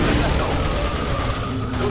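Aircraft turrets firing in the game Resident Evil 6, a dense continuous barrage of rapid gunfire and booms filling the scene, loud and unbroken throughout.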